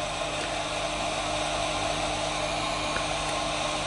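A heat gun blows a steady, even rush of hot air over the circuit board of a TP-Link TD-W9970 VDSL router, a constant close hiss with no pauses or voices.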